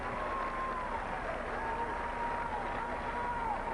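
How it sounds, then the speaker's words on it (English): A tennis crowd at a 1995 women's doubles match gives both teams a big round of applause, a soft, distant, even wash of clapping heard beneath a commentator's voice. "this crowd now giving both teams a big hand"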